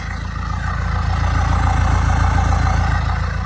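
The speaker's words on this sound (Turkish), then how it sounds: "Egzoz sesi çok tatlı arkadaşlar." A Citroën C-Elysee 1.6 HDi diesel engine idles steadily with a low, throbbing exhaust rumble, running evenly and close by throughout.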